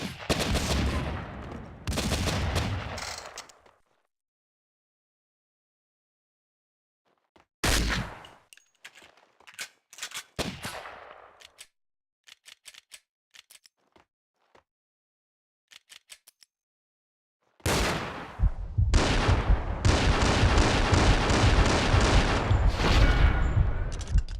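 Gunfire in The Punisher video game, with bursts of rapid automatic fire and fusillades separated by silent gaps and sparse scattered shots, ending in a long sustained barrage.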